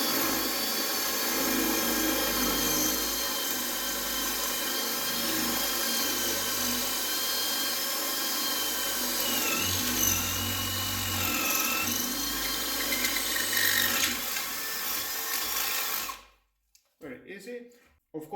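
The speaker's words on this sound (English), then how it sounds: "Now let's see next test in drilling on a wall. I have used the 10mm of drill bit for concrete." A Parkside 20V cordless drill bores into a wall with a 10mm concrete bit, a steady loud whirring grind lasting about sixteen seconds before stopping abruptly, followed by brief faint handling noises.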